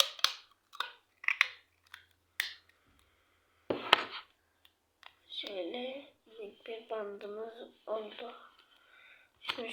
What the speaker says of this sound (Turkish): Ağzıyla bant kesmeyi bilmeyenler de yani tabii ki de makasla kesecekler.